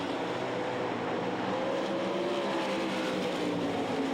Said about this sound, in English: your leader, Steve King, who's now on the back straightaway, approaching lap traffic